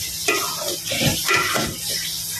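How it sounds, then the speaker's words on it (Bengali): Dumba, fat-tailed sheep meat, sizzles in a pan as water is poured in, giving a broad steady hiss with bursts of bubbling and spoon-against-pan stirring, close and fairly loud, no voices. "একটু পানি দিতে হবে, পানি দিয়ে দিলাম।"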